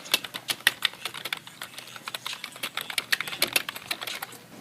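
Fingers type on a computer keyboard, quick irregular clusters of crisp, close key clicks with brief pauses between bursts.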